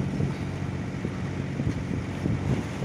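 A sailboat heading north under mainsail and engine produces a steady low engine drone with wind buffeting and water rushing along the hull, continuous and fairly loud throughout.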